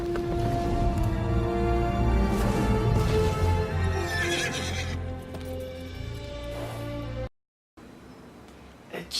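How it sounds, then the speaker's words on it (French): A horse neighs loudly in a fantasy film scene as a dragon lands, with whinnies over a dense orchestral score and hoof clatter, then a brief silence before softer ambience returns. "il y a un seul cheval qui réagit quand un dragon se pose devant eux"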